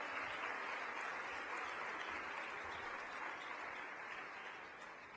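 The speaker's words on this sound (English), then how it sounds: "It deserves an applause." A crowd at a local heroes awards event claps in a sustained even roar of hands, soft and somewhat distant, tapering off gradually near the end with no voices on top.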